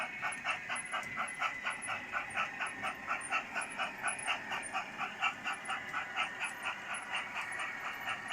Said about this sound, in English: at the other end of the platform I can hear the diesel with the parcels coming through